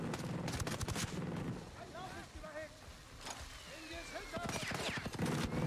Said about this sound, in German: Oh, der schießt auf mich.